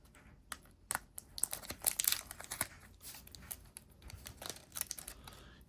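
Tape is cut and pulled away from the packaging of a Polly Pocket space-themed toy set, giving close crinkling, tearing and crackling bursts of plastic and paper with no talk.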